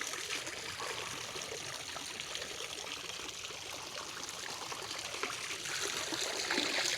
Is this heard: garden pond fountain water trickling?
yes